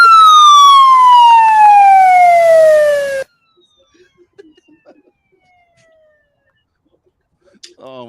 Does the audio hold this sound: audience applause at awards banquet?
no